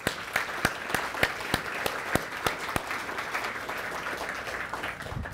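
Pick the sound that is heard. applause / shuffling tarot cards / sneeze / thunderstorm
applause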